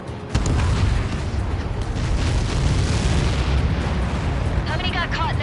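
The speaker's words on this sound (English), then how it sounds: "How many got caught in that explosion?" In Ace Combat 7, a Helios projectile strikes and explodes across a battlefield. A sustained, roaring blast rumbles loudly for several seconds, with a radio voice and music faint beneath it.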